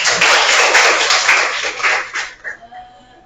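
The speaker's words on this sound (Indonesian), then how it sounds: "Kasih aplaus teman-teman." Classroom students break into loud clapping that fills the room, then it quickly thins into scattered claps and fades, with a few voices mixing in near the end.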